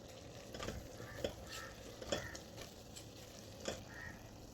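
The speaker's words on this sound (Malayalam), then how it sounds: "എല്ലാം ഇട്ട് കൊടുത്തൊന്ന് ഇളക്കി കൊടുക്കാം." Spice powders, chilli and coriander, being stirred into hot oil in a pan for chicken curry, a soft steady sizzle with a few scraping spoon strokes, close and fairly quiet.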